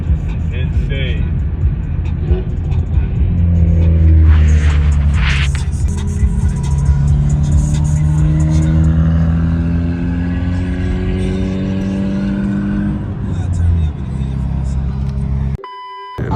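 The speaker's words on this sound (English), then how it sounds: "That's a manual focused RS right there." Manual Ford Focus RS driving past at a winter car meet in snow, the engine revving up and sweeping through gear changes with rising tones, close and loud, with people talking over it.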